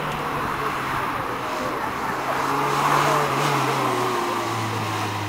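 A Ferrari Mondial climbs a historic hill-climb course, its engine droning steadily at a distance in a continuous mid-volume hum with slowly shifting pitch.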